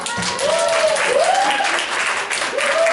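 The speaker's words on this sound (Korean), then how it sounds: "박수 한번 주세요." An audience at a business seminar claps in a steady, dense round of applause, while a speaker's voice carries over it intermittently throughout.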